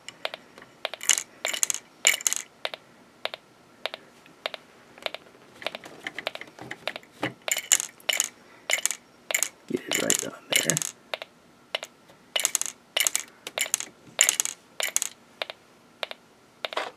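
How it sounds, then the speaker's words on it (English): A Snap Circuits electromagnet oscillates and shoots out a paperclip, heard as rapid close clicking and rattling bursts in irregular clusters, with a denser rattling stretch in the middle and no talk. "See, we're shooting the paperclip right out."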